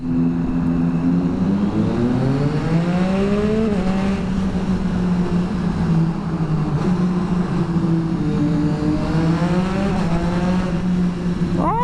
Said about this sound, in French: ce bruit de shifter avec le SC Project, c'est tellement bien